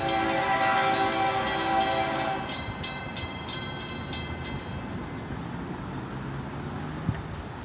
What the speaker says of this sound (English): this is train 202